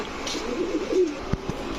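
A pigeon of the Giribaz, Racer or Sirazi breeds gives a soft, close coo, followed by a couple of faint taps, with no talking.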